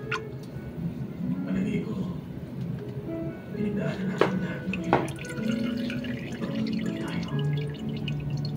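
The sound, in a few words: contaminated oil draining from refrigerator compressor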